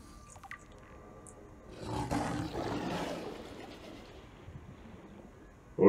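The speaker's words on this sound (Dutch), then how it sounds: "hoort dat brullen, man. Dat is niet normaal." A deep, rumbling creature roar rises and slowly fades, heard from a distance in Subnautica's underwater world. Faint game ambience sits around it, and a sharp sound cuts in right at the end.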